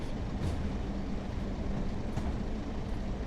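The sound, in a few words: Class 142 Pacer train braking in a video game train simulator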